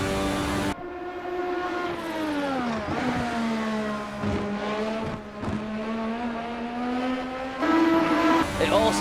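A 1,200-horsepower F1-style race car in qualifying trim at Le Mans in Assetto Corsa gives a steady, high-pitched engine whine that rises and falls through gear changes, with a driver talking over it.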